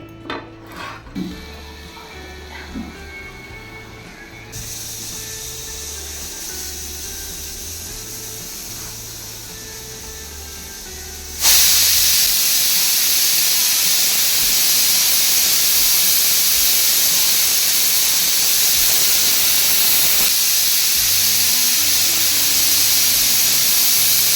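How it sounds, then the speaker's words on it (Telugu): Mixer grinder grinding roasted spices and peanuts into masala for a mutton paya gravy, a few scrapes and knocks at the start, then a steady hiss that jumps to a much louder, brighter roar partway through, close and without speech. "ఇవి మిక్సీ జార్లో వేసుకుందాం మిక్సీ పట్టుకుందాం"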